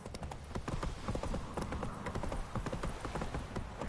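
The horse Roach galloping in The Witcher 3, a fast, steady clip-clop of hooves close by and loud, continuous throughout with no talking over it.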